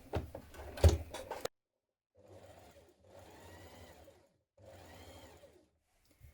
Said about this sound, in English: I'm going to top stitch down it just to keep it all in place.